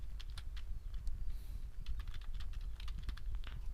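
Quick, irregular keystrokes patter on a computer keyboard while someone fills in an online form, light clicks close to the microphone with brief pauses between bursts.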